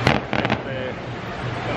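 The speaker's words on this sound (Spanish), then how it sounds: "Los fuegos artificiales." Fireworks burst at Universal Studios: a couple of sharp, loud pops near the start, then a rumbling crackle trailing off in the distance.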